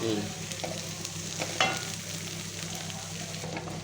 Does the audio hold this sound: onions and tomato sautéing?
yes